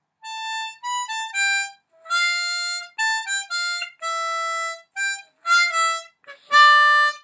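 Harmonica playing lines of the Little Drummer Boy carol, with the seven draw in place of an overblow, in short bright phrases of single notes separated by brief gaps, close and alone.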